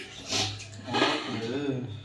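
Water poured over rice in a pot for cooking at home, two short splashing pours in quick succession.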